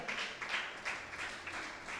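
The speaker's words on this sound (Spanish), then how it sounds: "Pero un aplauso al Señor, aleluya." A Spanish-speaking church congregation applauds, the clapping faint and somewhat distant, rising and falling in soft waves.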